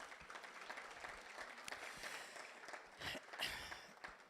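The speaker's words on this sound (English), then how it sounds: "one more round of applause for Just Angel" Faint applause from a small audience, a steady patter of clapping that swells briefly near the end.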